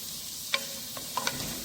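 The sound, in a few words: chopped green chilies added to frying onions and stirred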